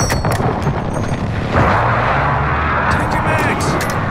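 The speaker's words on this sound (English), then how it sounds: "friendly precision airstrike inbound" Precision airstrike explosions in the video game Call of Duty Modern Warfare, loud repeated booms and gunfire rumbling over a drone of aircraft.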